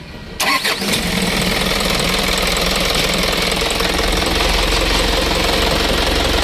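An engine cranks and catches after a brief pause, then keeps running loud and steady with a knocking idle for several seconds, heard close up with no talk.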